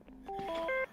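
A Motorola radio in a FiveM roleplay server sounds its channel tone, a quick run of clean electronic beeps stepping upward in pitch over about a second, crisp and close, with no voices.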